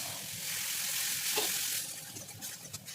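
Spice paste frying and being stirred in hot oil in a Bengali home kitchen, a soft steady sizzle with scraping stir strokes that thin out toward the end, fairly quiet.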